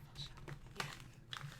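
A goddess tarot card deck is shuffled in a few soft, quick riffling bursts, very quiet and close, with brief pauses between them.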